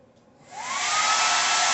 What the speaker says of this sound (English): Now, you take your favorite hair dryer.